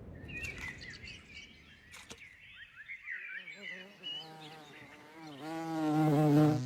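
A swarm of bees clustered on a branch at a forest edge hums with a rising, wavering buzz, while birds chirp intermittently nearby.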